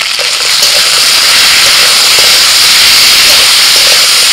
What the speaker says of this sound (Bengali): লবণ হলুদ দেওয়ার পর আলুটাকে আমি আরও 3-4 মিনিট মতো ভেজে নিয়েছি